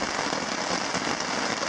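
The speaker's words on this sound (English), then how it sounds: "it started raining harder than ever" Heavy rain pouring down at a lakeside campsite in the Boundary Waters wilderness, a dense steady hiss with no pauses, near and fairly loud.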